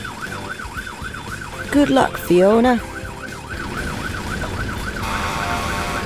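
A cartoon fire engine's siren wails in a steady, rising and falling loop, loud and continuous, while a voice speaks briefly over it partway through.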